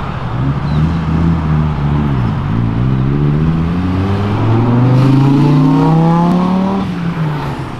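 Sports cars, a Ferrari, a Porsche Turbo and a BMW, roar loudly nearby, with a deep engine note that dips, then climbs steadily through the revs as one accelerates hard, no voices over it.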